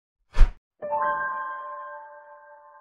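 A single notification bell rings out clearly after a short whoosh, its bright tone sustaining and slowly fading alone in silence.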